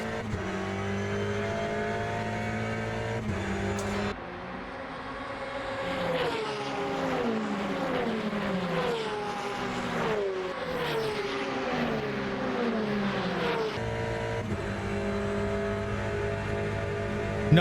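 An Aston Martin race car engine in the racing sim Le Mans Ultimate roars steadily and loudly, its pitch climbing through gears and dropping on downshifts, with a brief lull before rising again.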